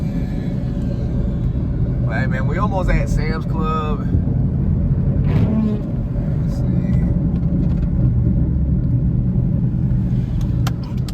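An SRT Jeep engine rumbles with a deep, steady drone inside the cabin while driving, someone talking briefly over it before the engine carries on alone.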